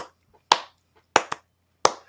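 Hand claps ring out alone with quiet gaps between them: a single clap, then a quick pair, then one more, sharp and close, in an uneven rhythm.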